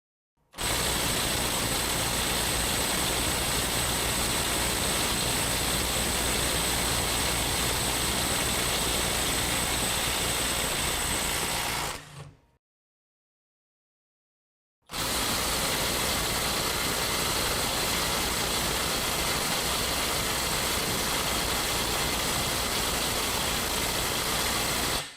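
A Snap-On CT9015 brushless 1/2-inch impact wrench breaks a tight bolt free at about 350 foot-pounds, giving two long, loud bursts of continuous mechanical hammering and whine, separated by a short pause.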